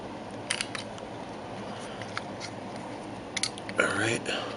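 Pliers pushing a pin out of a Bass Pro Carbonlite CL10H fishing reel, giving close, faint metallic clicks and scraping that end in a louder grinding burst, with background noise of people working outside.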